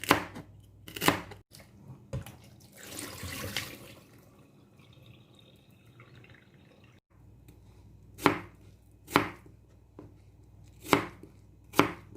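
A knife chopping fruit into bite-size pieces for a fruit salad dressing: sharp, close knocks on a cutting board, a cluster early on, then a quiet stretch, then several separate loud chops spaced about a second apart.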